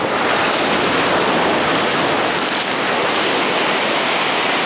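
Surf on Cansaulim beach in South Goa, India, a loud continuous wash of breaking waves filling the whole scene without a break, with no voices.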